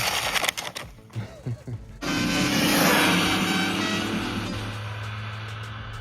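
A Jiabaile Sprint Meteor 1/10 RC truggy with a wood wing and ZTW 120 power system, running full throttle on a 4S battery. Brief talk gives way to a loud, sustained motor whine and rushing drive noise that slowly fades as it pulls away.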